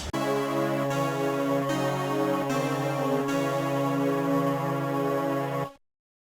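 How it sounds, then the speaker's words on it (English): The Fire Emblem 7 death theme, a sustained, somber electronic melody with layered synth tones, plays steadily for several seconds, shifting chords a few times before cutting off abruptly. "the death theme in Fire Emblem 7 sounds like this."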